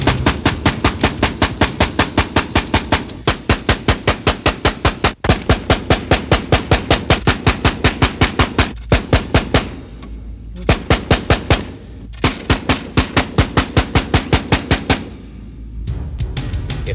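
A Browning Automatic Rifle fires full auto in long bursts of distinct, evenly spaced shots at a fairly slow cyclic rate, loud and close, with short pauses between strings.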